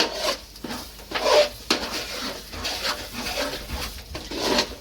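Spices including turmeric, cumin, coriander and garam masala are stirred and sautéed in a pan for a gravy, with repeated scraping and rubbing strokes of a spoon against the pan at an irregular rhythm, close and moderately loud.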